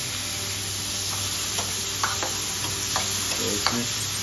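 Chopped tomatoes sizzling and frying in spice masala in a pan, a steady broadband hiss with a few light stirring scrapes, close and continuous with no talking.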